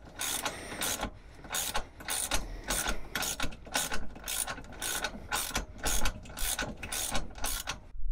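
A hand ratchet undoes the seat bolts in a van, with rapid clicking bursts repeated in steady strokes, loud and close, with short pauses between pulls.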